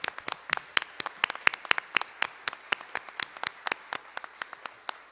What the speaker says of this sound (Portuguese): Eu gostaria até de uma salva de palmas